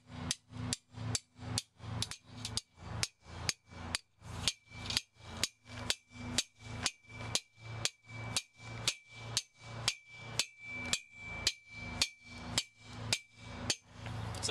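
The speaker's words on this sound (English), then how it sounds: "all you have to do is take a hammer and tack them in" Steady hammer strikes, about two per second, tacking walkway edging spikes into the ground, ring out alone in a long even series, each tap sharp and metallic.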